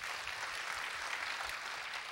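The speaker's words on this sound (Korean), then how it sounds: "인사하고 박수하겠습니다." Faint, distant applause from a congregation at a church Bible-study gathering, a steady soft wash of clapping with no clear individual claps and no voices on top.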